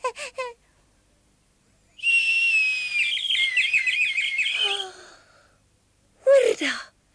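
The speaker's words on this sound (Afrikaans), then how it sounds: "Hans het saam met jou gefluit" A person whistles a rising and falling melodic tune at close range, framed by brief bursts of talk before and after.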